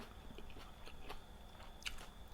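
Crunchy, sweet dates being bitten and chewed, heard as a few soft, close crunching bites and chews in a quiet setting with no talking.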